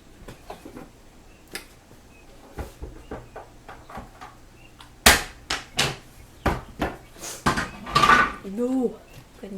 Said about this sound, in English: We're also going to add 4 cloves of garlic, which I've just finely chopped up on my plate.